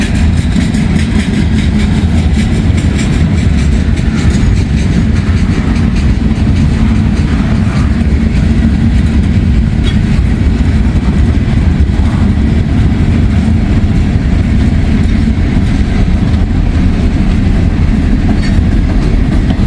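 A freight train with steel coil gondolas passes close by on a misty, drizzly day, giving a loud, steady low rumble and clatter of wagons that continues unbroken throughout.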